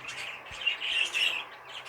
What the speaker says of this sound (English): the cockbird on the right, which is a cinnamon sky blue, 2023 run bird